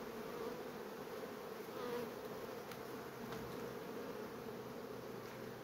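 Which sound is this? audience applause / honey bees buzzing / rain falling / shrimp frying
honey bees buzzing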